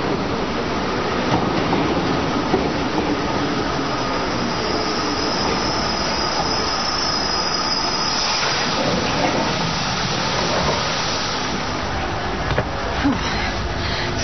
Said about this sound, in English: So, what am I doing on a London tube train?